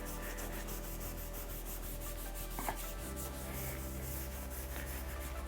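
Steady rubbing and scrubbing at stubborn adhesive on a motorcycle frame, working with contact cleaner, heard as a continuous close abrasive scrape with little variation and no talk.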